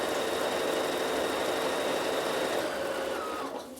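A Bernina sewing machine runs steadily, stitching a seam down to the end of an embroidery-hoop hanging basket, a constant mechanical whir that eases off slightly at the finish.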